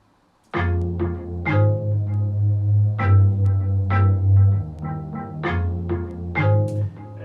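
Instrumental hip-hop beat, entering after a brief silence with a heavy bass line and a main melody of bright plucked notes in a steady, looping rhythm, no voices.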